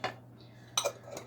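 Metal spoon clinking against a dish while a teaspoon of Nature Seasoning, a salt, pepper and garlic mix, goes in: two or three short, faint clinks spread across about a second.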